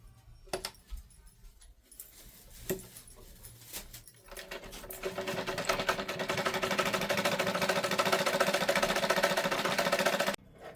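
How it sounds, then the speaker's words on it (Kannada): A sewing machine stitches a blouse, its steady mechanical whirr running loud and continuous for several seconds after a few short clicks and bursts at the start, then cutting off abruptly near the end. "ಇದನ್ನ ಹಿಂಗೆ ಫೋಲ್ಡ್ ಮಾಡಿ ಗೆಸಿಂದ ಇಲ್ಲೊಂದು ಸ್ಟಿಚ್ ಹಾಕೋಬೇಕು."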